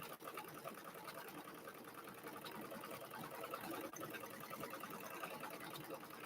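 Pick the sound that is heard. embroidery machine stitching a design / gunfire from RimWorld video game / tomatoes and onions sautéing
embroidery machine stitching a design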